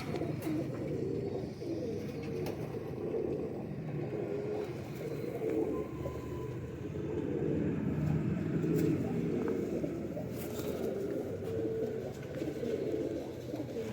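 Patti-wale lakha pigeons cooing close by, soft low repeated coos layered over one another continuously, with faint background noise.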